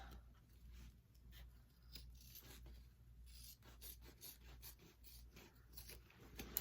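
Scissors trimming fabric for a mini backpack make a faint, steady rasping with scattered soft snips, quiet and close throughout.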